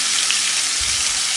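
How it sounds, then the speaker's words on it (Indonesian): Shallots and garlic fry in a little oil in a wok, giving a steady, close, even sizzle throughout with a faint low rumble near the end, no talk. "Tambahkan sedikit aja minyaknya untuk gongsong bawang brambangnya."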